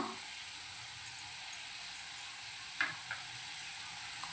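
Turmeric and Malvani masala sauté in a pan with a steady soft sizzle and faint stirring taps, close and quiet, with no talking.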